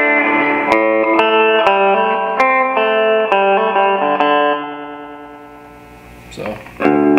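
Electric guitar chords ring through a guitar amp's stock reverb, sustained strums with a smeared wet tail, loud and close, fading near the end before a final struck chord.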